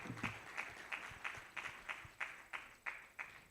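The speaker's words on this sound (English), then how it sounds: "Please, let's clap again, please." Slow, rhythmic group clapping at a disability-inclusion stakeholders' conference in Nigeria, roughly eleven evenly spaced claps in a steady beat, moderately near with a faint hum underneath.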